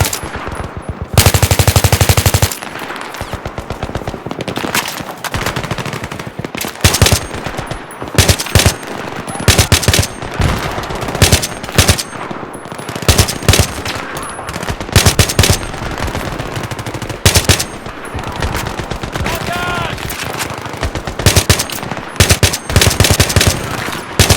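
Gunfire in the Battlefield 3 video game: loud, sustained machine-gun bursts and rapid shots roll almost without pause through a chaotic firefight. Heavy blasts punctuate it.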